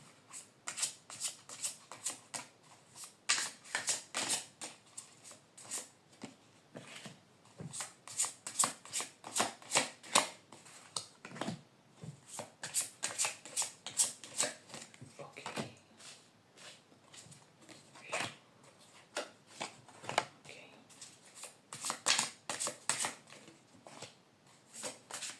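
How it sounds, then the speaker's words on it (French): Tarot cards are shuffled and drawn by hand in close, crisp bursts of riffling and flicking, broken by short pauses over a long stretch, with no voice. "Je prends celle-ci et je tire les cartes de façon aléatoire."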